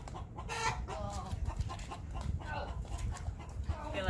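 A naked neck chicken clucks in a series of short, close calls over a steady low rumble of outdoor background noise.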